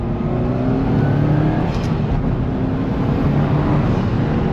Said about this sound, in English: You can hear the turbo spool up a little bit.